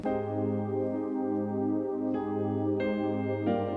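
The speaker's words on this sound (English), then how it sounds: "this is an acoustic piano with kind of a pad going on in the background" Sustained piano chords blend with a soft, wavering synth pad, a few new notes entering near the end.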